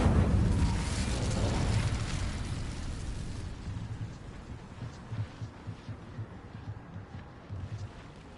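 Incendio fire spell cast in Hogwarts Legacy: a loud, close whooshing roar of flame for about three seconds, then fading into a low rumble with soft crackling pulses.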